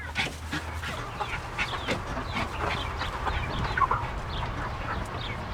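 Buff Orpington chickens cluck and squawk in scattered bursts over a steady outdoor murmur, with a few sharper calls rising now and then.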